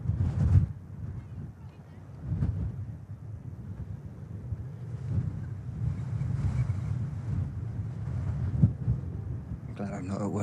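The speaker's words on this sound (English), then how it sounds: "Big gust just hitting us here at the RVP." Strong wind gust buffeting the microphone at Manchester Airport, a steady low rumbling roar that swells and surges throughout with brief louder bursts, close and loud.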